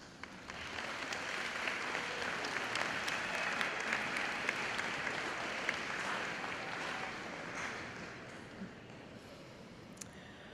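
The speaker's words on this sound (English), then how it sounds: "So soon to be grads, please blow your family a kiss and give them a round of applause." A graduation crowd at a high school ceremony gives its families a round of applause, with dense sustained clapping that stays full for about nine seconds and then thins out near the end, heard from within the hall.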